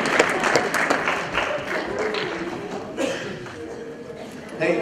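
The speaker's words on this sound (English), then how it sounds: "if you could stand to your feet and give a huge round of applause" An audience rises to its feet and applauds after a church message, producing dense, continuous clapping mixed with crowd noise and cheers, fairly loud and sustained throughout with slight surges.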